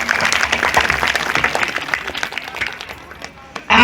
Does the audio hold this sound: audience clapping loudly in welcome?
yes